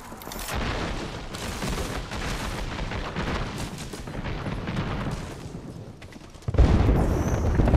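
A grenade explodes in an Apex Legends-style shooter game, amid sustained gunfire and rumbling blasts, with a sharp, louder boom near the end of the sequence.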